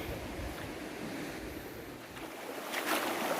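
A calm, fairly deep river flows along a trekking route, heard as a steady, full rush of water that holds an even level throughout, with some wind buffeting the microphone and no voices.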